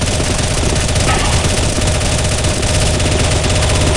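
Dense, continuous automatic gunfire rattles without a break while zombies are shot in CS:GO's zombie escape mode on the ice-themed map ze_iceworld_athletic, loud and close throughout.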